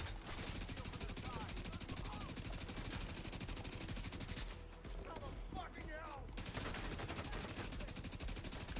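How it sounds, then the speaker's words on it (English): Shotgun fire in The Division 2, rapid repeated blasts in a loud dense stream broken by a short pause, with someone talking during the lull. "Because I use a shotgun."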